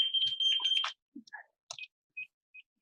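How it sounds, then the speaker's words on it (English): A house alarm goes off indoors, a shrill electronic tone that sounds steadily and then breaks into scattered short beeps, with no speech. "Oh, I just set off the house alarm."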